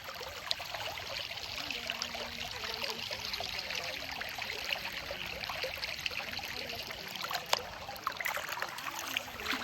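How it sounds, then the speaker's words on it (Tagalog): Water of a provincial river flowing and trickling, a soft continuous babble with small splashes and one sharper splash near the end, fairly quiet and close, with no voices. "Kami sa ilog"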